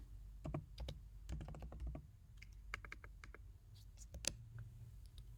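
Computer keyboard typing in quick bursts of close, crisp key clicks with short pauses between, while entering code for a Botnoi AI flex message carousel; no speech.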